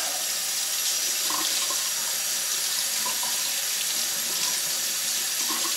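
A kitchen or bathroom tap runs steadily to wet a scrubber, a close, even rush of water that holds at a constant level throughout with no voices.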